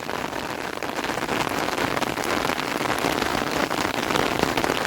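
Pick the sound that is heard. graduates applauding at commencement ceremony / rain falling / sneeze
rain falling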